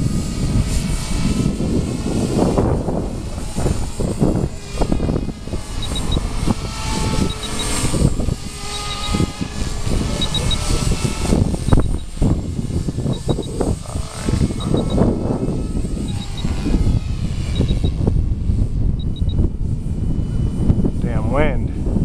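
A V450D radio-controlled helicopter flies outdoors, its rotors and motor producing a loud continuous whirring drone with wind buffeting the microphone throughout.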